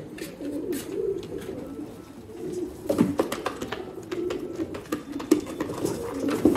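Soft, low cooing of several breeding pigeons, repeated in overlapping phrases, with light rustling and fluttering nearby.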